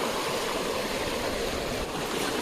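A strong river flow rushes past at a jungle crossing, a steady, dense roar of water heard close and continuous with no voices.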